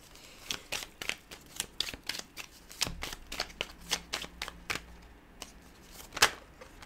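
Tarot cards are shuffled by hand, with quick, crisp riffling snaps and flutters coming close and steady, plus a few softer thuds as cards fall out of the deck.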